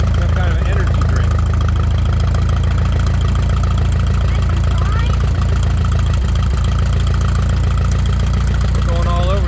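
A car engine runs steadily through the whole stretch, a loud low rumble with some knocking vibration, as the vehicle is driven hard and erratically, turning all the way around.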